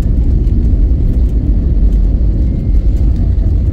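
A passenger airplane touches down on the runway at Bangalore in light rain, heard from inside the cabin as a loud, steady low rumble and roar that fills the whole moment.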